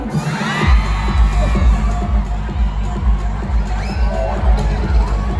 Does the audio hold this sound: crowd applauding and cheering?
yes